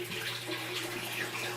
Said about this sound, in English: pick the hose up as high as you can and just walk it to the bathtub and all the water will drain out